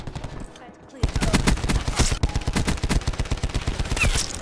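Rapid automatic fire from the Tigershark, a hybrid assault rifle and light machine gun in a shooter game, rattles in loud sustained bursts with a steady rhythm after a brief quiet start, while someone talks over it.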